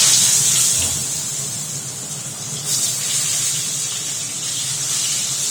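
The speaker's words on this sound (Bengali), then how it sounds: "এটা যে আওয়াজ পাচ্ছেন এটা চিমনির আওয়াজ" A kitchen chimney exhaust hood runs with a steady broadband whoosh of rushing air, close and constant throughout, with a faint frying hiss beneath it.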